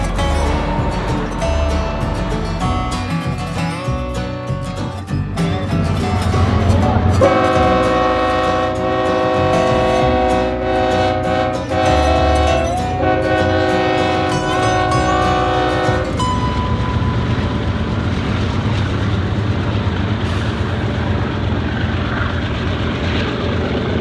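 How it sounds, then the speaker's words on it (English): A freight train rumbles past near the Petrified Forest, loud and close, sounding long blaring horn blasts over the heavy clatter of wagons before fading into steady rolling noise. "Look at that train go."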